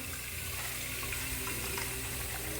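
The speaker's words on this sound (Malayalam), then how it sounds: "പുട്ടിന് വേണ്ട വെള്ളം ആവശ്യത്തിന് എടുക്കാം" Steady running water from a tap pours continuously into a container, water for making puttu, a constant hiss with no talking over it.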